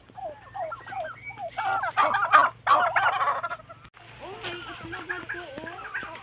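Turkeys on a turkey farm gobbling in rapid, overlapping bursts, loud and close, joined by scattered clucks and chicken calls, with a brief quieter stretch before more calls.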